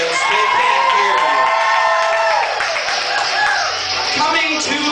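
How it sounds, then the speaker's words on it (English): Children in a freak-show performance crowd cheer and shout loudly and continuously, a dense mix of voices with bits of clapping and whoops. "Cheer louder for him, kids. They can't hear you."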